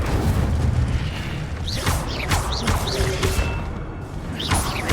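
An Incendio fire spell is cast in a video game, giving a loud whooshing burst with repeated swooping, rising sweeps layered over a steady rumbling bed.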